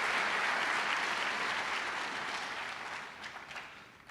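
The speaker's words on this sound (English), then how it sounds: "Please show your appreciation and applause" An audience applauds a public school superintendent before a governor's address, a dense wash of clapping that stays full at first and then gradually thins toward the end.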